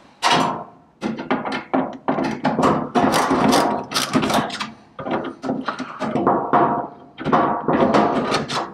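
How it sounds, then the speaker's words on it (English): A flathead screwdriver turns a dryer vent hose clamp, making close, loud bursts of scraping, ratcheting clicks and thunks in repeated strokes separated by brief pauses. "I'm going to use a flathead screwdriver to remove this clamp, to loosen this clamp to remove the vent hose."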